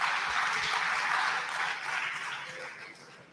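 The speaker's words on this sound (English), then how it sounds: "I request you to please give them a huge round of applause for their commitment." Audience applause at a Model United Nations conference honoring committee members, a brief burst of clapping that holds steady and then tapers off toward the end, moderately loud with no talk.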